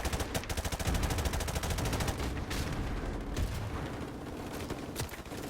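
Close-combat gunfire in Call of Duty Modern Warfare Remastered: rapid automatic bursts and scattered single shots crackle continuously at close range, dense and loud, without talk.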